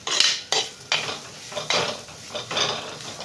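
Spinach and grated coconut stir-fry being stirred in a pan, repeated rhythmic scraping strokes of a spoon against metal with a faint sizzle underneath, close and without speech.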